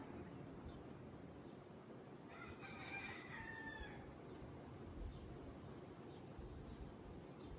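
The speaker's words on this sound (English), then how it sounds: "the roosters are providing the animal feature for this one" A rooster crows once, faint and distant, during a tropical outdoor Pilates session, a single drawn-out call lasting about a second over a steady background hiss.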